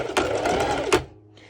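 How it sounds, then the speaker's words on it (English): A sewing machine runs a zigzag stitch on fabric for pole bottoms with a ruched back: one close, loud, fast mechanical burst that stops abruptly, followed by quiet. "I'm going to use a zigzag stitch"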